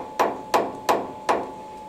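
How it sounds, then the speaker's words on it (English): A hammer taps a metal lathe chuck four times in a steady rhythm to true the workpiece, each sharp close knock ringing briefly over a faint steady workshop hum. "find the highest point, tap down, and there you go, we're already within a hundredth of a millimeter."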